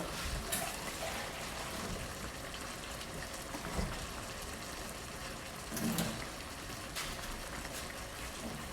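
Water pouring steadily into a container, a continuous rushing splash with a few brief louder bursts.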